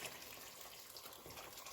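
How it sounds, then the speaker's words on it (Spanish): Hot water is poured into a pot of lentil soup with beef and ribs, giving a brief, soft, steady gushing splash that runs alone without talk. "Y ahora sí le voy a echar el agua caliente"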